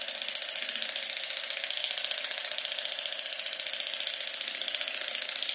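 A LumiSpa facial cleansing device runs against the cheek with a steady, fast buzzing whir that holds constant throughout, close and fairly loud, with no talking.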